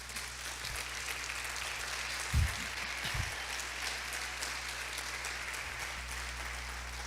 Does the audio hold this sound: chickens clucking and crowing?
no